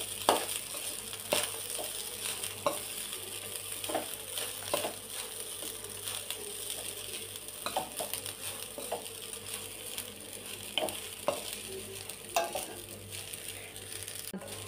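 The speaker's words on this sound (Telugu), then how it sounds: "మొత్తం ఈ పొడి కలిసేదాకా మంచిగా కలుపుకోవాలి." Cooked rice being stirred into spice powder in a pan, with soft scraping and patter of a spoon against the pan, occasional clinks, and a low steady hum underneath, all fairly quiet and close.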